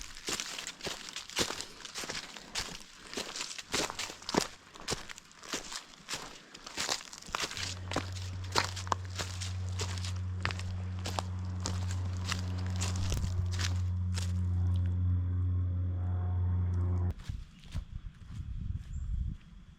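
Footsteps on a narrow, root-covered hiking trail at Colton Point in Pennsylvania: close, crunching and rustling steps that continue throughout, with a low steady hum in the middle stretch before the steps come through alone again.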